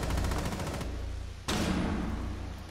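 Video game gunfire with a rapid automatic burst up front, then a pause, then a second loud burst. The shots sound close and sharp, with no talking over them.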